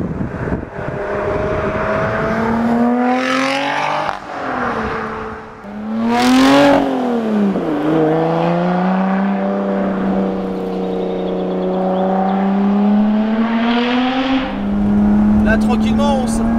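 A Lotus Exige 430 Cup sports car accelerating, heard close from inside as the engine note climbs and drops through gear changes in a loud, continuous roar, with someone talking over it.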